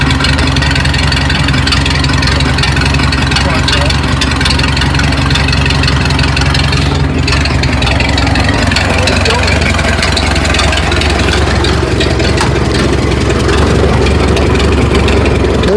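Ford Model T engine running at a steady idle after starting, a continuous low rumble close by and loud throughout, with voices talking over it.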